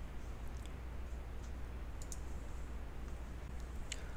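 A computer mouse gives a few sharp, quiet clicks scattered over a few seconds, faint against a steady low background hum.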